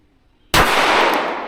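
A single loud, close gunshot from a Daniel Defense H9 pistol fired at a target about 105 yards away, with a sharp crack followed by a long, bright decay that rings out, and no talk over it.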